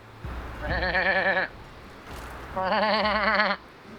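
Two long, wavering bleats from a goat or sheep, each lasting about a second, loud and close with a short pause between them.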